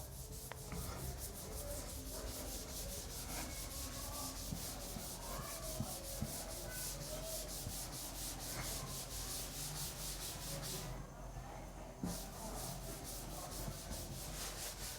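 Rubbing a board to erase it: a steady, continuous scrubbing friction noise that stays close and even throughout, with no voices.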